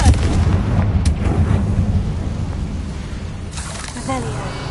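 Confringo fire-blast spell from a Harry Potter video game, a loud rumbling blast with crackling debris that swells and fades under heavy background noise, followed by a brief whooshing flare near the end.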